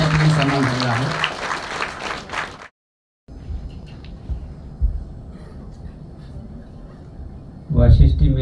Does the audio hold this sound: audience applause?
yes